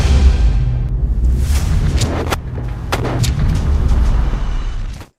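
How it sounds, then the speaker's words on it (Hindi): Sniper rifle firing at a Merkava tank commander: loud booming gunfire with several sharp reports over a rumbling, sustained blast background that cuts off abruptly. "स्नाइपर गोली चलाता है"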